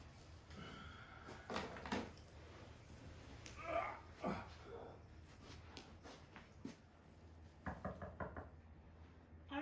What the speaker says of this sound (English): I'll knock on the door before I come back in